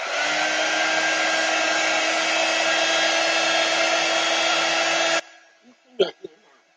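Hair dryer blowing steadily at close range for about five seconds with a loud, even rushing whir, then cutting off abruptly, followed by a couple of short knocks and quiet handling sounds.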